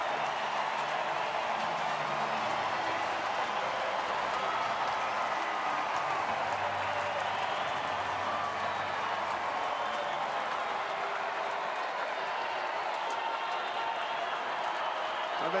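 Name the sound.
sellout baseball crowd cheering on their feet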